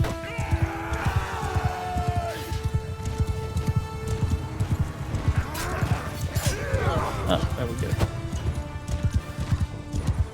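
Cavalry horses charging into battle in Mount & Blade II Bannerlord, with steady clip-clop hoofbeats, occasional whinnies and clashing impacts throughout, while someone speaks briefly over the din.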